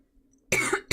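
A single sharp, close cough in a quiet indoor room, followed quickly by the start of a second cough.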